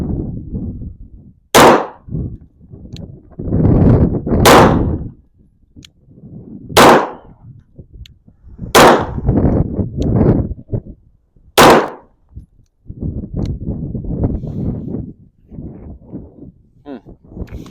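A Sig 320 pistol fires five sharp, loud shots at a target, spaced a few seconds apart, with someone talking between and around the shots.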